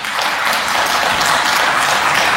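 Applause fills the Armenian parliament chamber as a dense, steady wash of many hands clapping together, loud and continuous throughout.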